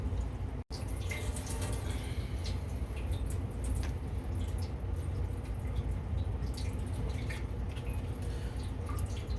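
Water drips and trickles from a leaking laundry tub, a continuous wet splashing with scattered small drops, fairly faint and close.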